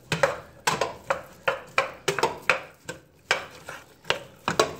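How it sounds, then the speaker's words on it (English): A spoon stirs beef stew meat and onion in a pot, giving a steady run of about a dozen sharp scraping clinks at a regular rhythm, close and moderately loud, with no voices. "Stir that up."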